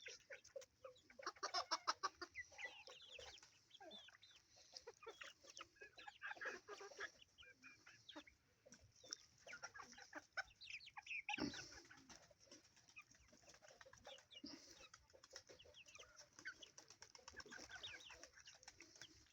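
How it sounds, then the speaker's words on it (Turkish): Chickens cluck and chicks peep in a busy yard while being fed bread, with scattered calls overlapping throughout and a brief louder flutter midway. "Civcivler ekmeği seviyorlar."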